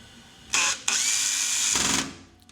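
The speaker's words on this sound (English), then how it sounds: "Fasten all the screws." A power drill drives screws into the back panel of a Siemens washing machine, a short whirring burst, then a brief pause and a longer steady high-pitched whine that drops lower before stopping.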